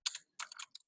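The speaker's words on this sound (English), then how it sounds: "It's just my natural typing, so I can be having mistakes while typing." Typing on a computer keyboard, close and quiet: a short burst of a few quick clicks, a brief pause, then several more keystrokes, alone with no talk.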